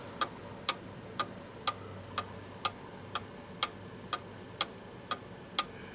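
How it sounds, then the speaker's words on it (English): A cuckoo clock ticks in beat after repair, each sharp tick evenly spaced about half a second apart, clear and close against a quiet background. "Listen to this clock."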